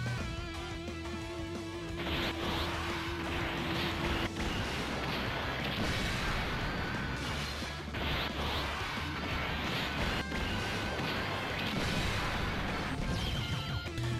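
Great Saiyaman's super attack in a Dragon Ball Z video game erupts as a dense barrage of loud crashing impacts, blasts and energy bursts, continuous and booming for the whole stretch with game music underneath.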